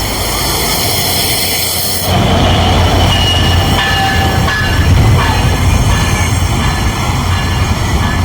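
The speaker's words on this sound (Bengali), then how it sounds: "এই হলো ট্রেন মধুমতি এক্সপ্রেস।" Madhumati Express passenger train pulling into Ishwardi station in Bangladesh during heavy rain, a loud steady rumble of rolling wagons with squealing wheels and rattling that swells after the first couple of seconds and continues close by.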